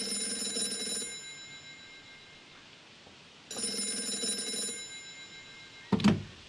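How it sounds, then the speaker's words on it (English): A telephone rings in the Gray Matter video game, two long bright trilling bell bursts separated by a pause, followed by a short clunk as the receiver is picked up. "That phone is about to ring."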